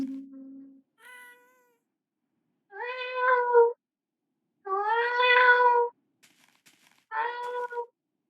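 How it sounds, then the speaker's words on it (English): A happy ghast from Minecraft gives four distinct cat-like meows, each a second or so long with pauses between, clear and close against silence. "He sounds like a cat, this little dry ghast thing."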